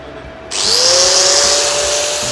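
A power tool spins up abruptly and runs at a high, steady whine as it cuts into a Harley-Davidson Sportster exhaust muffler, loud and close, with no speech.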